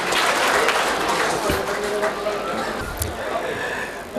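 An audience at a mushaira poetry gathering at the Numaish fair claps to welcome a poet, a dense, steady wash of applause from many hands lasting a few seconds.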